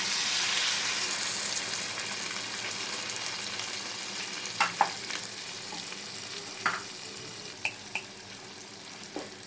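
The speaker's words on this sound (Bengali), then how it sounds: "তবে কষা হয়ে গেছে এখন আমি এর ভিতর জল দিয়ে দেবো" Water goes into a frying drumstick (sajne data) curry, and a bright hiss at first settles into a steady, moderate sizzle, broken by a few sharp clicks of stirring against the pan.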